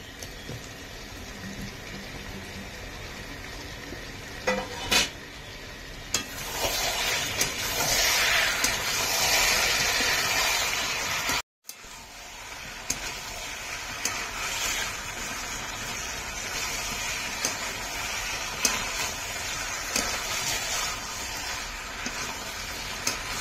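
Pieces of fried raw jackfruit and potato stir-fried with chicken in a pan, a steady loud sizzle with scraping stirs and occasional clinks of the utensil, running on without voices.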